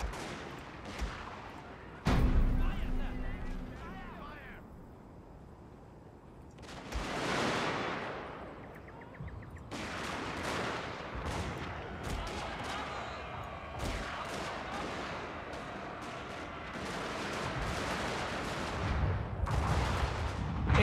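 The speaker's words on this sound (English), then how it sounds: "In comes the artillery." Artillery and gunfire crash through a battle in Shogun 2: Fall of the Samurai, with heavy booms near and far and crackling volleys rolling on without pause under the din of combat.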